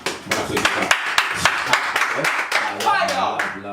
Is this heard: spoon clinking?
no